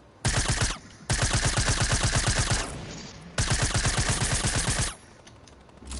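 Sustained minigun fire in Fortnite Battle Royale, loud rapid bursts of shots in three long stretches with brief pauses between them.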